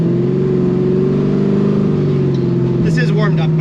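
A 1970 Chevrolet Chevelle 454 SS with a 632ci Merlin big-block V8 rumbles loudly as it pulls away on the road, its deep engine note steady then rising briefly as it accelerates.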